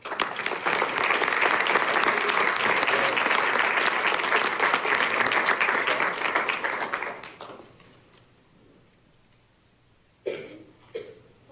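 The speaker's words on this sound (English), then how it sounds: "please join us in thanking these amazing volunteers with a well-deserved round of applause" Loud, sustained applause from a council meeting audience thanking police volunteers, steady dense clapping for about seven seconds before fading out, followed by near silence and a couple of brief bumps.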